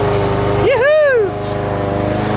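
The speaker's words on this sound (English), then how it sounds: "we're gonna start lawnmower again. The noise is what scares her." A lawn mower engine runs with a steady close buzzing drone, while a voice, probably a person's, rises and falls over it for a moment.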